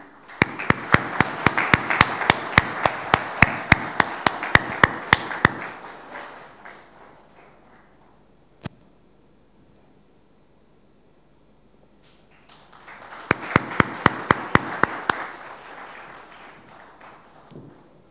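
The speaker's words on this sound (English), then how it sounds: "A big round of applause," Applause at a 2015 employee excellence awards ceremony comes in two bursts: a few seconds of crisp, close clapping that fades to quiet, a lone knock, then a second round of clapping rises again.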